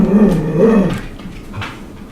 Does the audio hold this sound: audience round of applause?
no